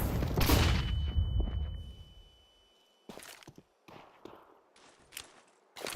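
A flashbang grenade goes off in Counter-Strike 2 with a loud bang and a ringing tone that fades over about two seconds, followed by scattered footsteps and clatter.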